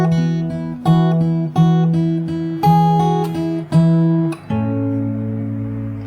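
Fingerstyle acoustic guitar plays a passage from a song, with about six plucked chords ringing one after another before a final sustained chord fades out.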